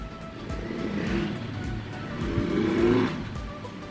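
A car passes on the village road just outside a house, its engine swelling and fading twice as it goes by nearby.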